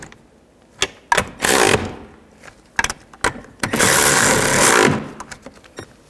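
A ratchet snugs down the mounting nuts on a 2019-20 Chevy Silverado side mirror. Close mechanical clicks come in short bursts and longer runs of fast ratcheting, with pauses between them.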